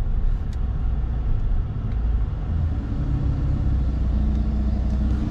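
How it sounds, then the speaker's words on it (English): A pickup truck fitted with a Flowmaster exhaust idles close by with a deep, steady, throaty rumble that carries on evenly with no voices over it. "The truck is really cool. It's got Flowmaster, so it sounds really good too"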